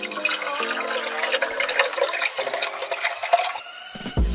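Water pours steadily into the reservoir of a Nespresso coffee machine, a close, continuous splashing trickle with a tonal hum and a sharp knock at the end, no talking.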